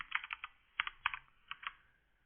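Someone types on a computer keyboard, producing a short run of quick, faint, close key clicks in uneven bursts.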